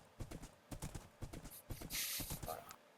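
Hooves clip-clop in quick uneven bursts from a Minecraft horse, mixed with game effects and a brief whinny-like burst, while people talk over it.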